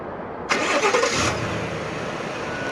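A 2021 GMC Sierra Elevation pickup cranks and fires up in one quick, loud start, then settles into a steady, smooth idle heard close by.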